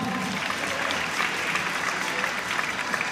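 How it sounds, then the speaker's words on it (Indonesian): An audience at the Indonesia ICT Award 2013 ceremony applauds the nominees with dense, steady clapping from a large crowd. The clapping holds an even level throughout and no one speaks over it. "Boleh tepuk tangan untuk para nominator."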